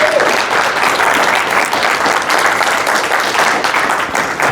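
An audience at a freedom, equality and human rights gathering bursts into loud, sustained applause, dense clapping filling the whole stretch without letting up.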